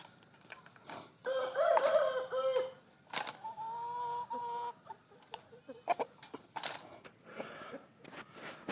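Chickens cluck and a caged imported American rooster crows loudly and close, with bursts of clucking and scratching around it and no talk.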